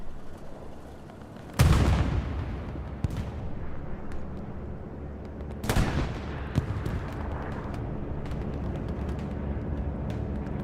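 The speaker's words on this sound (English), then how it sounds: "Bombing run coming in to the north." Airstrike bombs from a bombing run on Omaha Beach in the video game Hell Let Loose, two heavy booming explosions several seconds apart with rumbling tails and scattered distant gunfire in between.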